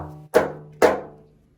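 Two sharp darbuka pop strokes played in a Khaliji rhythm pattern, each a crisp, ringing slap that decays quickly, spaced about half a second apart, close and clear with no talking.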